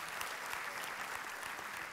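A church congregation applauds, a steady wash of clapping that carries evenly throughout, fairly faint and heard from some distance, with no voices over it.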